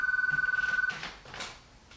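Telephone bell ringing as a theatre sound effect during a live stage play, a rapid trilling ring for almost a second that then cuts off, followed by faint shuffling and brief sounds of movement on stage.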